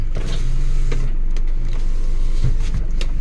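Power windows on an Isuzu Adventure 4x4 whir up and down in several short motor runs inside the cabin, loud and close, broken by clicks and thumps from the switches and glass stops.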